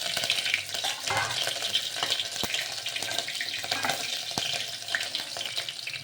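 Cumin and mustard seeds crackle and spatter in hot oil in a home kitchen, a continuous busy hiss with sharp pops scattered throughout, close and fairly loud.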